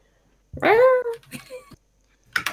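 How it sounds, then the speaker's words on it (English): A house cat lets out a loud, drawn-out meow, then a shorter second cry, close up in a quiet room, with a brief voice sound near the end. "What are you doing to my cat?"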